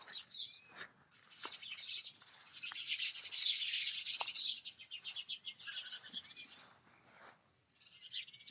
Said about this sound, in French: il y a les oiseaux là-bas dans l'arbre